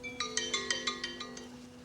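A phone rings on a call, a steady electronic ringtone pulsing in quick, even bursts over a low hum, close and moderately loud.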